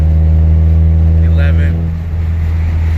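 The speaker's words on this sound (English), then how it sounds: "This is 6th gear open throttle all the way." A tuned car's engine pulls hard at wide open throttle in sixth gear, a steady loud drone with strong low harmonics that holds throughout, easing slightly near the two-second mark.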